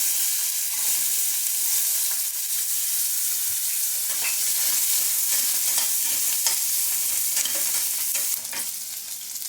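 Chopped garlic and about ten peeled small onions fry in hot oil for a curry-leaf kulambu, a steady bright sizzle with occasional stirring scrapes throughout, close and continuous with no talk.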